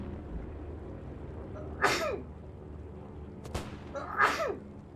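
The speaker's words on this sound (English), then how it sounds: "I'm going to sneeze." Two separate sneezes roughly two seconds apart, each a sharp breathy burst standing out over steady background noise from a realism-event game session.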